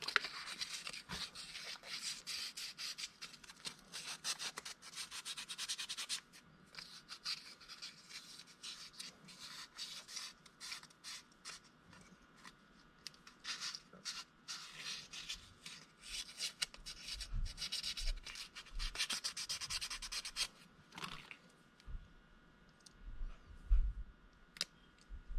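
Rust being rubbed off the springs of a Ferrari mechanical fuel pump, a faint, close, continuous scratchy rubbing with irregular small clicks and scrapes, quiet and without talk.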